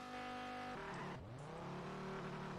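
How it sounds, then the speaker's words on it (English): A Dodge Viper's engine in the racing game Auto Club Revolution, a deep, harmonic-rich drone that drops briefly, then climbs in pitch as the car revs and accelerates, loud and alone without talk. "the engine sound is pretty much exactly like the one on the real-life Viper"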